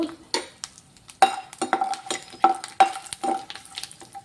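Cashews frying in oil in a pan while being stirred for a boneless chicken dry fry masala, with steady sizzle, scraping stirs and a few light clinks of a utensil against the pan, no talk.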